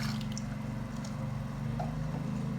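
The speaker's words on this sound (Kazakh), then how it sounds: "Ең алдымен ыдысымызға сүтімізді құйып аламыз." Warm milk pours in a steady, continuous stream into a bowl, a soft liquid rush over a low background hum.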